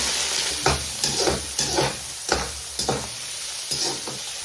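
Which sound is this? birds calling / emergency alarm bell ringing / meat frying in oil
meat frying in oil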